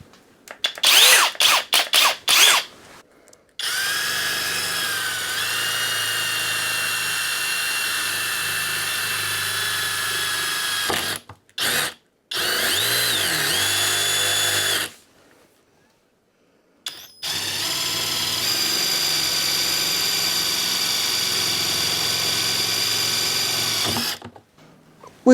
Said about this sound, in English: We drilled into the pack out.